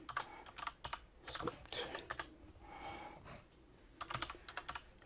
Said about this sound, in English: I can start typing in.